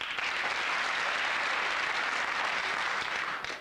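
Studio audience applause on a 1990 British television quiz show, a dense steady wash of clapping that holds loud throughout and fades slightly at the very end.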